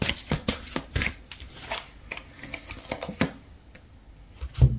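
Tarot cards shuffled in quick, crisp riffling bursts, a rapid run of papery flicks and slaps, close and fairly quiet, with no talking.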